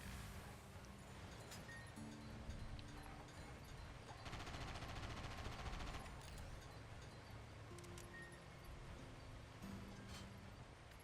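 Rapid bursts of 75mm battery-gun fire from a main battle tank in the Sand Land video game, repeated blasts over a dense, constant battle din with engine rumble throughout.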